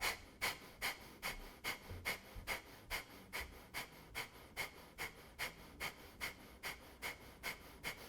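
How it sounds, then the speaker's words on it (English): Breath of fire yoga breathing: a long, even train of sharp, rapid exhales forced through the nose, roughly two per second, close and steady with no talking. "snapping the navel to the spine with each sharp staccato exhale out the nose"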